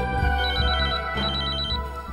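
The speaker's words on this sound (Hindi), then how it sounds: "आ गया फोन।" A telephone rings in a domestic TV drama scene, two bursts of repeated electronic trilling separated by a short pause, heard over steady background music.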